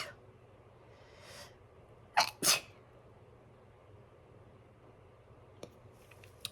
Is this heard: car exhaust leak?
no